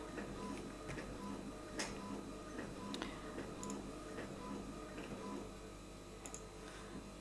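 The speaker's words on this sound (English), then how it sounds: "I apologise for the noise in the background because that's just my printer" A printer whirs and clicks steadily in the background, with a continuous mechanical hum and intermittent sharp ticks.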